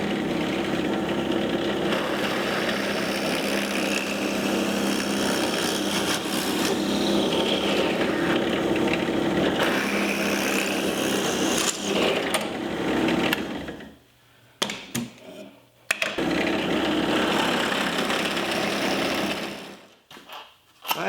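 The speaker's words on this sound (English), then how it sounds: "and this has to be drilled out." A drill bores out a slot in a piece of wood for a table saw tapering jig, giving a steady, loud motor whine for about thirteen seconds, then several short stop-start bursts before dying away.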